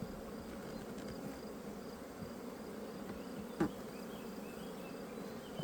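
Honeybees buzzing around an open hive during a queen introduction, a steady dense hum of many bees close by, continuous throughout with one louder bee passing near the microphone.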